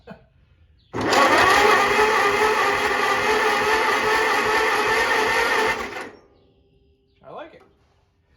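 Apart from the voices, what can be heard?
starter cranking old Farmall C tractor engine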